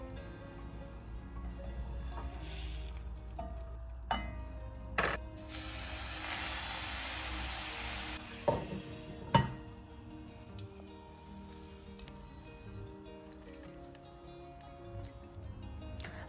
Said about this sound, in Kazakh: екінші жағына аударып, 1-2 тамшы су құйып, 1-2 минутқа қақпағын жауып пісіріп аламыз